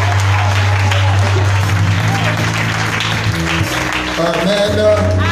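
A church congregation applauds and acclaims Jesus Christ during a service, with loud, continuous clapping and cheering under a sustained musical drone that keeps going throughout.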